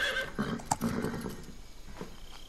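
A horse neighs in Metal Gear Solid 3: Snake Eater, a loud whinny with a few sharp hoof clip-clops cutting through, then fading into softer ambient game sound.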